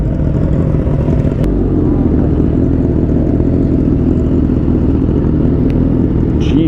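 A crowd of motorcycles gathered at a bike stop produces a loud, continuous, low engine rumble with idling and light revving blended together, close and steady throughout.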